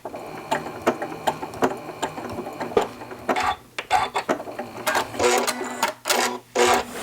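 Sewing machine stitching pleats and tucks into fabric, a rapid run of loud mechanical clatter with pauses and restarts, no voices.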